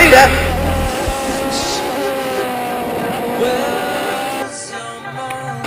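Race cars roar through an overtake at Lime Rock during an American Le Mans event, including the Muscle Milk Pickett Racing HPT and a Mazda, engines loud and sustained with shifting pitch, and an announcer talking over them.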